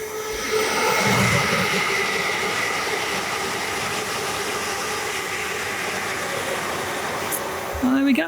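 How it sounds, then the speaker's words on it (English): A train rumbles in steadily through Cheddington railway station in Buckinghamshire with a broad, hissing roar that holds for several seconds, ending with a brief squeal of brakes. "the stopping traffic as a train comes towards me here"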